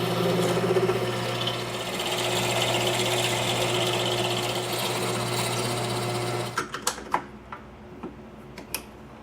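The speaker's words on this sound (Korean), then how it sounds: "센터 부분에 칼의 핸들이 들어갈 구멍을 뚫어줍니다." A drill bores a hole in the center of a copper and steel knife piece for the handle, producing a loud steady whirring drone for several seconds, then stopping and giving way to a handful of sharp taps and clicks.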